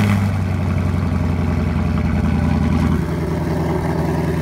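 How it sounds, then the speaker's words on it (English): A 2016 Camaro SS with NPP exhaust in tour mode, two valves closed, idles after a cold start with a deep, steady burbling rumble, loud and close, the pitch dropping slightly partway through; no one speaks. "Figured I'd do a little extra video here with the remote start so you can hear the NPP exhaust."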